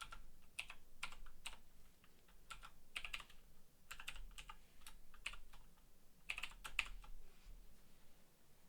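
Quiet clicks of typing on a computer keyboard come in irregular bursts of keystrokes with short pauses between, close and soft against a low background hum.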